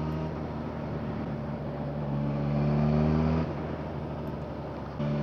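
A 2018 Suzuki GSX-S1000 ABS motorcycle engine gives a steady low hum that rises briefly with a harmonic revving tone, then drops back and levels off. The sound stays fairly quiet and continuous, with no one speaking.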